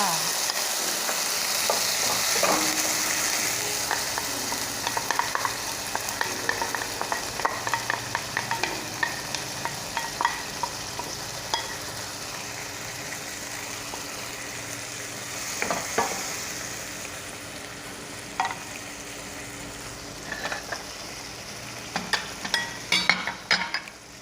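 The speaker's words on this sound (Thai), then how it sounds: "กระเทียมเริ่มมีกลิ่นหอมแล้วนะคะใส่ปลากระป๋องลงไปเลยจ้า" Canned fish stir-fried with garlic in a pan for Thai fried thin rice noodles, a steady close sizzle with scraping stir strokes and occasional clinks of a utensil, no talking.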